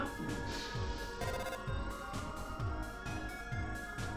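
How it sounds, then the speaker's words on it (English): A phone ringing in the video game Undertale: a faint, steady electronic ringtone pulses in a quick repeating rhythm for several seconds, with no talk over it. "And now the phone's ringing."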